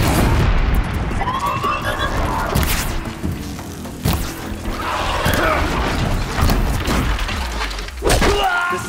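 An enemy machine in Horizon Zero Dawn blows up in heavy booming crashes and shattering debris, loud and sustained with repeated thuds, amid combat noise.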